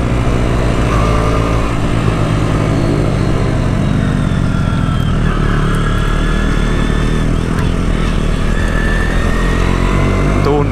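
KTM Duke 125 motorcycle engine running steadily while riding, a continuous loud drone with slight pitch rises as it revs, with a voice talking over it throughout.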